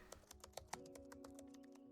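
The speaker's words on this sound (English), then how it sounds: "the keyboard typing is the most obnoxious noise." A computer keyboard clatters with quick, irregular keystrokes, soft and fairly close, over a faint steady hum.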